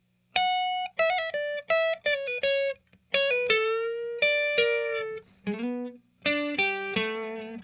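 Electric guitar plays a solo line as a run of short plucked notes, bent and sustained, with small gaps between phrases, close and clear with no voices.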